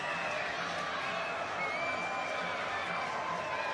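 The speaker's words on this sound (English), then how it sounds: "And the London crowd has something to shout about at last." A rugby crowd at a London Broncos home match roars after a try, a steady, sustained wash of distant cheering and shouting that holds level throughout.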